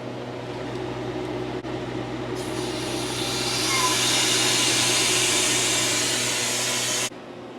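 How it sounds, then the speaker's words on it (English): A freeze dryer's steady mechanical hum with a broad hiss of air as its drain valve vents the vacuum, rising and swelling midway, then cutting off abruptly near the end. "open the drain valve to vent, so we can open the door"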